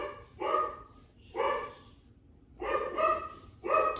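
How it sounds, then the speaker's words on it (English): Dogs barking indoors in a home, four loud barks in two pairs with short pauses, no talking over them. "Do you guys hear my dogs?"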